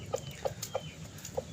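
Free-range village chickens (ayam kampung) cluck softly at a distance, four short evenly spaced calls over a faint background hum, with no talking.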